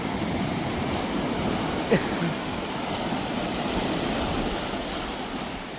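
Sea waves wash onto a beach where a huge log has drifted ashore, a steady, close, rushing surf that fills the scene, with one brief thump partway through and no voices.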